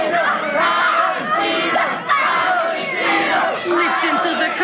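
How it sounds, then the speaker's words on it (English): A wrestling arena crowd cheers and shouts continuously, loud and dense throughout, with excited voices rising and falling in a steady roar. "Listen to the crowd cheering her on."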